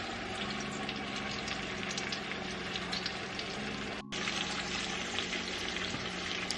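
A Cornish hen browning in a Dutch oven, a steady dense sizzle and crackle of frying with a brief dropout partway through.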